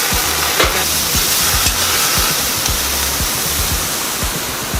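Fried oyster and kway teow fry hard on a stove, a loud, steady sizzle with a dense hiss and repeated scraping, clattering strokes of a spatula against the pan.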